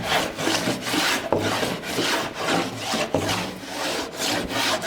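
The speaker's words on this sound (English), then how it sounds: "So as we come across, we're taking a shaving," Blade shaving the high spots off a wooden rail in repeated rhythmic strokes, about a dozen scraping rasps, each a close, loud, breathy swish with brief pauses between, and no voices.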